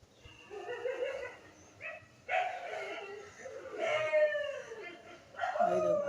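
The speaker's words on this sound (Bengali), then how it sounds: "সেই যে কুকুরগুলো সব ডাকছে" Several dogs bark and yelp at a moderate distance in a few separate outbursts spread across the moment, fairly faint and uneven, with no talking over them.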